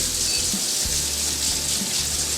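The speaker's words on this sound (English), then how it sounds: "Wash my hands here." A kitchen tap runs steadily while hands are washed beneath it, a continuous splashing hiss with small irregular knocks, close and alone without talk.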